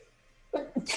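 One loud, close human sneeze from seasonal allergies bursts out abruptly after a quiet stretch, a sharp two-part burst with a hissing tail.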